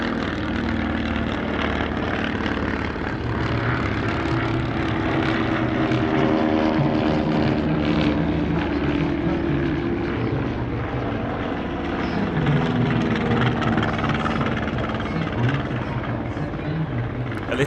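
An SE5a First World War fighter plane with a Hispano-Suiza 8B engine flies past at an airshow, its propeller engine droning loudly and steadily throughout, with a faint rise and fall as it passes.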